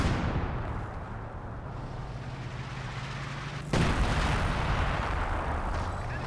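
Mortar firing in the Company of Heroes 2 battle game, a single deep thump about midway that lifts the level sharply above a steady low rumble of distant battlefield ambience, with no talk over it.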